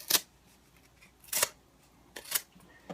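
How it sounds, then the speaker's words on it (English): A folding survival knife slices through cardboard in four short, rasping strokes spaced about a second apart, close and fairly quiet with no voices. "start off cutting cardboard"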